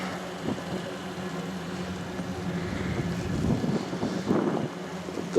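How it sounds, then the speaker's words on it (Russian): Blizzard wind blows snow through a small town in winter, a continuous rushing roar with buffeting gusts on the microphone, swelling stronger toward the end, with no speech. "Вот такой вот ветродув идет здесь."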